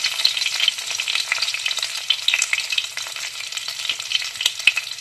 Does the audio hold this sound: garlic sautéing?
yes